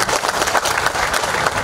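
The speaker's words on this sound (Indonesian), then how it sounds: "Tepuk tangan untuk keduanya." An audience at an indoor youth literacy camp event claps, a dense, even burst of applause from a crowd heard up close.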